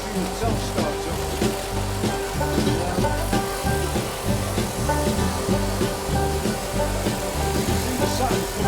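A sander thicknesser machine runs with a dust extractor in a workshop, a loud, continuous broadband roar with a pulsing, rhythmic grinding texture throughout.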